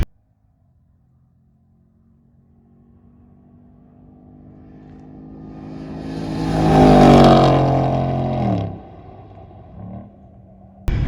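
A custom Ram TRX pickup builds speed from near silence, its engine and road roar swelling to a loud peak at close to 100 mph before dropping off sharply as it slows.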